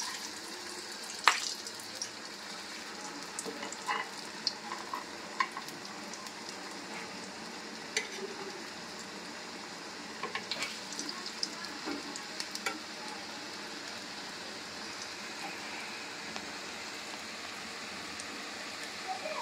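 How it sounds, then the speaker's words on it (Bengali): Fish fillets deep frying in hot oil give a steady, soft sizzle sprinkled with scattered crackles and sharper pops, continuous and fairly quiet throughout. "আমি এখন ভাজছি"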